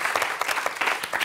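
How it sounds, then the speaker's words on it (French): A studio audience at the French televised quiz show Questions pour un champion claps briefly, a dense burst of applause heard alone. "on peut l'applaudir quand même"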